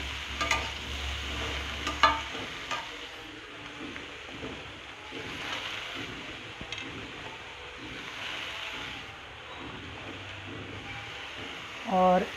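Bottle gourd pieces being stirred and mixed in a pan, soft scraping and shuffling under a low background hiss, with a couple of sharper clinks early on and a brief bump near the end.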